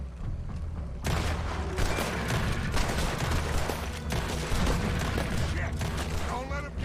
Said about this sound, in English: Put every bullet you got in him.